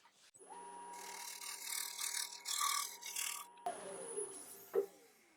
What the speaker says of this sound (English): I might just give that a little scrape before I take away that material in the bottom